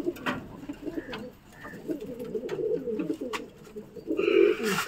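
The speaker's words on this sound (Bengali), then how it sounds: "নর পায়রা কিছু ছাড়বো, সেগুলো দেখাবো" Male pigeons released from cages coo repeatedly in soft, throaty bursts, with several birds calling close by and light rustling between calls.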